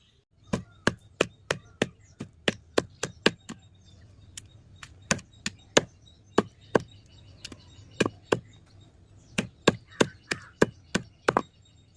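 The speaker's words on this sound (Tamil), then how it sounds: "இந்த தர்பூசணி தோலை நான் சின்ன சின்ன பீசஸாக வந்து நான் கட் பண்ணிக்கிறேங்க" A knife chops watermelon rind into small pieces on a board in quick, uneven bursts of sharp knocks, close and crisp with short pauses between runs.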